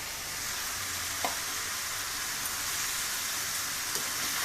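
Mixed vegetables for a rohu fish-head muri ghonto fry in a pan, giving a steady, fairly quiet sizzle with a couple of faint clicks and no voices.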